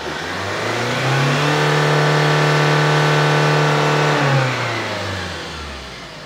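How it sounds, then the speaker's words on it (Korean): A truck engine revved hard at full throttle on an outdoor test, rising from a steady idle into a loud sustained roar with a strong low hum, holding for several seconds before easing back down. "아예 그냥 사람들 잘 알게 저기 트럭 소리 한번 먼저 듣고 들어갈까요?"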